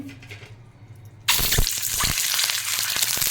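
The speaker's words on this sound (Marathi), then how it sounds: "या अंडी आता मी शालो फ्राय करून घेते" Boiled eggs go into hot oil in a kadai for shallow frying, setting off a sudden loud sizzle that settles into a steady crackling fry.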